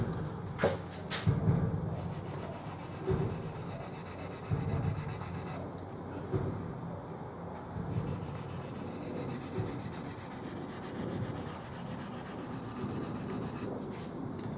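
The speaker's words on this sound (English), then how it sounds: "we've gone all the way up to a 2000 grit" Fine 2000-grit sandpaper rubs back and forth over a Gibson LPJ electric guitar body, a steady soft scratchy friction running throughout with no talk, fairly close and moderately quiet.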